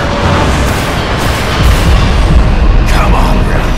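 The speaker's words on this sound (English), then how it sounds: "Arm forward cannons" Cannons fire in the video game Bulletstorm, a dense, loud booming rumble that swells partway through with crackling bursts, heavy and continuous throughout.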